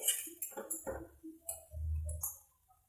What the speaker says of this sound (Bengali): এখন এগুলোকে ভালো করে মিক্স করে নিচ্ছি